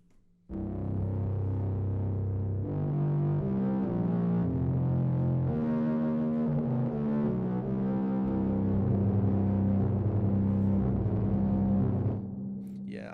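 Distorted bass tones from the Spitfire Audio Alex Epton Entropy sample library, a sustained gritty low drone shifting between pitches for about twelve seconds, loud and without any talking over it.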